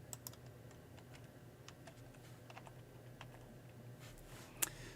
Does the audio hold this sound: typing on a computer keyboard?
yes